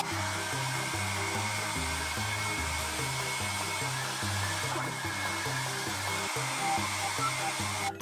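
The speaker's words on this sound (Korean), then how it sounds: "자 이제 드라이기로 이 초를 녹여주도록 하겠습니다" A hair dryer blows steadily and loudly throughout, melting candle wax rubbed onto a shoe, its motor whirring with a continuous rushing hiss, no voices.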